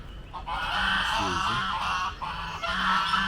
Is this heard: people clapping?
no